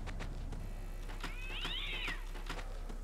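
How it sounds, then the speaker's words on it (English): A cat meows once in the horror video game Sophie's Curse, a short rising-and-falling call in the middle of the moment, set against quiet background noise and faint clicks. "Kitty!"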